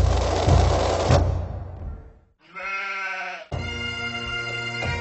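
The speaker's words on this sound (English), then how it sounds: "The only neighbors here are sheep." Sheep bleat in long, wavering cries, several calls in a row that are loud and close, with a rough, noisy start giving way to clear tonal bleats and no talking.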